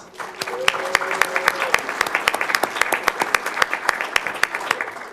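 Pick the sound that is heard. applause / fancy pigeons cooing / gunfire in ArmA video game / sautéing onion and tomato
applause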